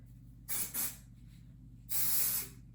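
Three short hissing bursts of spray from an aerosol can, close up: two quick puffs followed by a longer spray, with quiet room background between.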